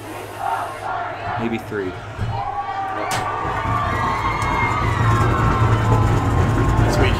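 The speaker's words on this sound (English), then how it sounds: "As we hear this Pueblo East crowd going crazy." A home crowd of Pueblo East Eagles fans roars and cheers in the stands at a varsity high school football game against Pueblo West, loud and building steadily, with a few shouted voices and a brief spoken word over the din.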